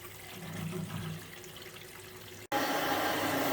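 A toilet flushes and water rushes through the drain and waste pipe, a close, moderately loud gush that briefly cuts out and then surges back stronger.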